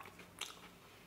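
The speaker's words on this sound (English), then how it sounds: "I can't really break it. Let me just bite it." A single crisp bite into a crunchy Girl Scout cookie, one brief, close crunch in an otherwise quiet moment, with no talking.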